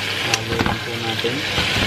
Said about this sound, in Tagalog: halo lang po natin ng halo hanggang sa mag-brown na po yung chicken